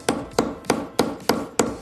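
Hard hammer strikes on metal resting on a wooden stump, six loud, close, regularly spaced impacts with brief ringing decay between them.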